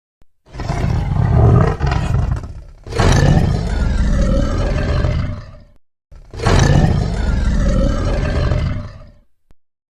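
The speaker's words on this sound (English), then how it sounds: "Correct. It's a tiger. Tiger says growl, grah." A tiger lets out three long, powerful roaring growls in close succession, each rough and loud, with short gaps between them.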